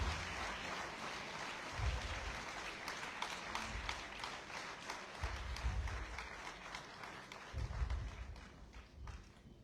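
Audience applause at a Foreign Service Institute commencement, a continuous dense patter of many hands clapping with occasional low thumps, steady and somewhat distant, lasting the whole stretch without talk.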